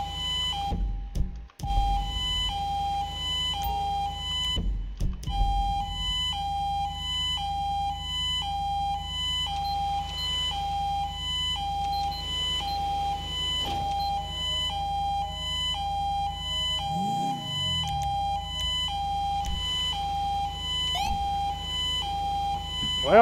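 A police car siren in Grand Theft Auto 5 wails in a steady, repeating two-tone cycle that runs for over twenty seconds, loud and close, with a few brief thumps early on and no talking.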